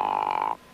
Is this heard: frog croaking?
yes